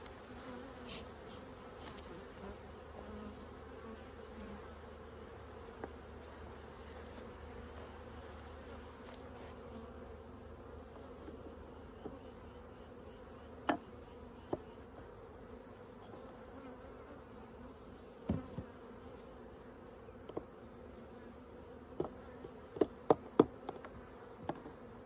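Honeybees hum softly at a hive entrance with a reduced opening during late summer, a faint continuous drone broken by scattered sharp clicks and knocks toward the end.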